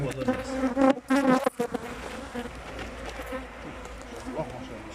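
Honeybees drone with a steady buzz at an opened beehive as a beekeeper inspects strong colonies holding brood. A loud, busy hum stays close throughout, with brief talk and handling noises near the start.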